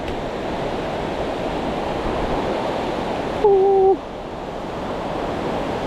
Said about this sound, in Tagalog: Ah, ito po yung ilog oh.